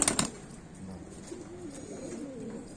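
A small male Churidar pigeon gives a soft, low cooing call, faint and close, after a brief rustle at the start.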